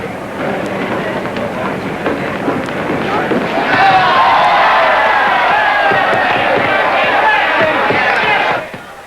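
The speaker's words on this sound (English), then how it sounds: "Just listen to that crowd." A large fight crowd at a sold-out 1930s boxing bout roars and cheers, rising to a loud, sustained swell midway before cutting off abruptly; mixed voices and shouts run underneath throughout.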